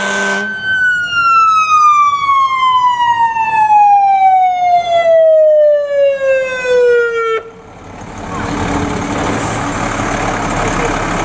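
Fire truck siren wailing loud and close, a single long descending tone that sweeps downward for about seven seconds, then cuts off into broadband engine and road rumble, at a fire department open house.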